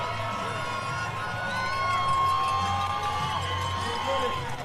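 Spectators at a Vancouver marathon send up a broad, steady roar of cheering and shouting from a large crowd, with whistles or horns rising above it and an announcer's voice over the top.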